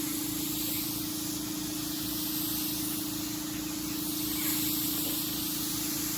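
An HVLP paint gun sprays spar urethane at close range, a continuous airy hiss with a low mechanical hum beneath it and no voices.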